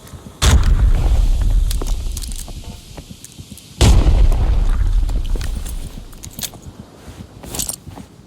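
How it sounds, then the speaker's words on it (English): Two heavy booming grenade blasts go off in the shooter game Arena Breakout, each a sharp loud thump with a rumbling tail, surrounded by scattered distant gunshots and small clicks. "I may have just wasted my grenades here, but I throw them to try to keep them from pushing too aggressively."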